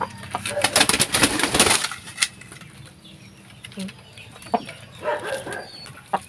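Rhode Island Red hens clucking and fussing after one has laid a soft-shelled egg in the evening, with bursts of agitated calls early on, then scattered quieter clucks and rustling.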